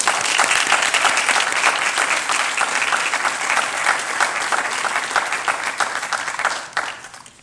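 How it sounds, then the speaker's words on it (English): Audience applause fills a hall at a medical school white coat ceremony, loud, dense and sustained for several seconds before fading out at the end. "I want the audience to give you another round of applause."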